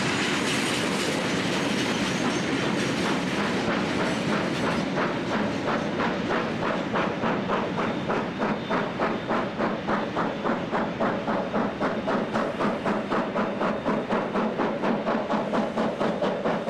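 Overlander passenger train rolling into Pukekohe station, wheels clacking in a steady rhythm over rail joints with a broad rumble, moderately close and without voices.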